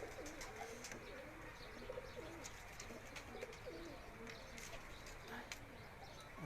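House pigeons on a rooftop coo in low repeated calls beneath a dense wash of outdoor noise, with faint voices and scattered clicks in the background.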